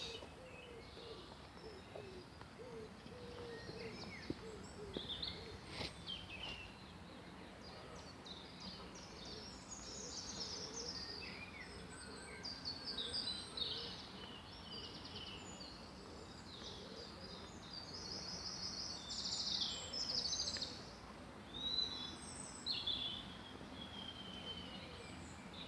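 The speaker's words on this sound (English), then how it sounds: "Spend a bit of time with the birds," Several birds call and chirp at a distance in a park, with soft cooing, over a steady outdoor background hum.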